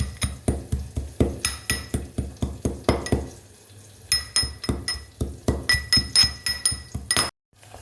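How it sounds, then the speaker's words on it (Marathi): Garlic and cumin pounded in a stone mortar and pestle, producing a steady run of hard, rhythmic thuds and clinks, close up, with a brief pause before the pounding resumes. "मी इकडे लसण जिरं बारीक करून घेते खालपत्त्यामध्ये"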